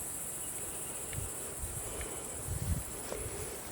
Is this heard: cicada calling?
yes